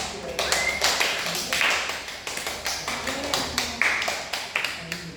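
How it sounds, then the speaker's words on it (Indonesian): A classroom gives a round of applause: brisk, close clapping from a group of students, steady and fairly loud for about five seconds, without any talk. "kita kasih aplaus kepada Regi"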